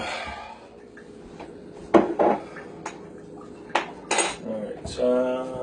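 Dishes clatter in a kitchen as a bowl is taken out, with several sharp clinks and knocks of crockery and cutlery, some louder bursts spaced irregularly over a soft background.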